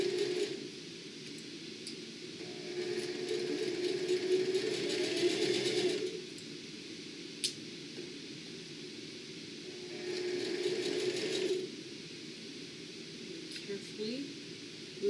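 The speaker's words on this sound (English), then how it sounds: "I'm going to go slow and sew all the way around." A sewing machine runs in two steady stretches, stitching slowly around the edge of a fabric bag, its motor a continuous hum with brief quiet gaps between runs.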